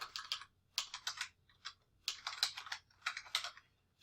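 Quick bursts of keystrokes on a computer keyboard, close and clear, arriving in several short clusters separated by brief pauses, with no talking.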